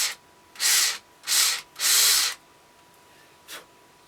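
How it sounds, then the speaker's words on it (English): A drill bores a small pilot hole into the middle of a wooden ventriloquist dummy part. Three close hissing bursts of drilling are followed by a faint short touch. "I'm going to drill just a little bit of a pilot hole in here in the middle"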